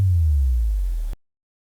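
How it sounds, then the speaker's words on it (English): Pitch-bent pure sine wave bass in a full mix, a single deep sustained tone that holds loud and smooth for about a second before cutting off abruptly into silence. "That is like a pure sine wave that's being pitch bent."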